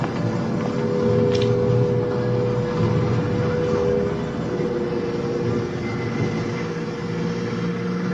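A train at a railway station in a 1957 film scene, a steady, loud low rumble and hum of rolling stock that continues without break and carries no speech.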